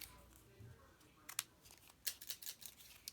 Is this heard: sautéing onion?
no